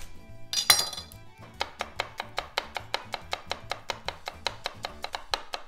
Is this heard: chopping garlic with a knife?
yes